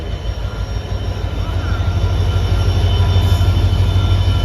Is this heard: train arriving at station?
yes